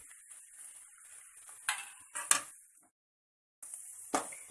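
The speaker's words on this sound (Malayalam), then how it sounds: "നന്നായി ഇളക്കി കൊടുക്കാം" Chicken curry being stirred in a kadai with curry leaves: soft close scraping and a few sharp clinks of a spoon against the pan, a short silent pause, then more scraping. Nobody speaks.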